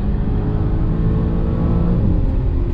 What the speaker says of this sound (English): Pull all the way through third.